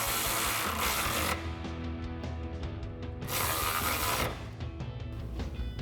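A socket wrench ratchets as it tightens bolts on step bar brackets fitted to a 2021-2023 Ford Bronco's inner rocker panel, giving quick repeated clicking strokes with short pauses between bursts, close and steady.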